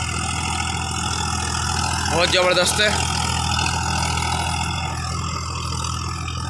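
A Swaraj 744 FE tractor pulling a Fieldking 7-foot rotavator through a field runs with a steady, rumbling diesel drone throughout, while someone talks briefly over it in the middle.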